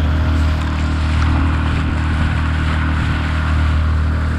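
Small boat with an outboard motor cruising on a plane at about 8 to 10 miles an hour, a loud steady engine drone with low hum and wash of water and wind, constant and close throughout.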